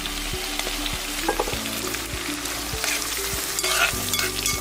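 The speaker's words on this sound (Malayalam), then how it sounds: "പച്ചമുളക് ഇട്ട് കൊടുക്കുന്ന ഒന്ന് ഇളക്കണം ചെറിയ ഉള്ളി ഇട്ട് കൊടുക്കുന്നു" Green chillies, ginger and shallots sizzle steadily in hot oil in a pan while a spoon stirs them, with scraping strokes every second or so over a constant frying hiss.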